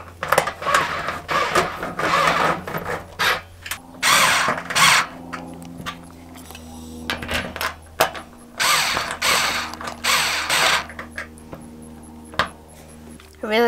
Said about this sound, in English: That noise almost sounds like a drill.